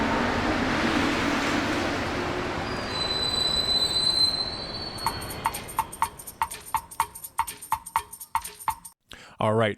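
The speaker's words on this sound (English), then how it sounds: "We're going to take the metro over to meet our guests" A Montreal metro train runs with a loud, rumbling roar and high squealing wheels, then slows into a rapid series of rhythmic clacks over the rails, ending with a burst of noise.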